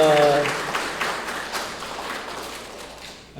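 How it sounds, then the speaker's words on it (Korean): A church congregation claps in welcome at a Sunday service, a dense burst of applause that is loudest at the start and slowly thins out. A short spoken phrase opens the clip. "환영의 박수 한번 보내드리겠습니다"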